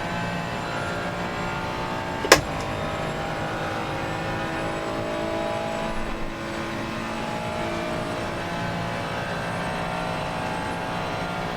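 A Ferrari engine in the video game Assetto Corsa holds a steady, droning hum at constant pitch throughout, with one brief sharp click near the start and no voices.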